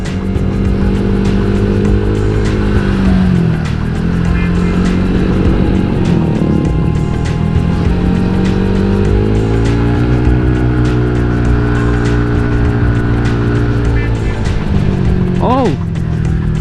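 Loud, close motorcycle engine with an upgraded special pulley, still slipping at the top end, revving hard with rising and falling pitch under steady wind roar, a voice briefly speaking near the end.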